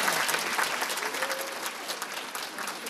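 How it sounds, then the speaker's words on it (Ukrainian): A hall audience at a city meeting in Yuzhne bursts into steady, dense applause that fills the room at full volume and holds for the whole stretch without letting up. "я прошу це підтримати аплодисменти"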